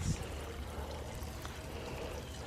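Water pours and trickles steadily from a garden irrigation line under test, a soft continuous flow heard close by over a short stretch.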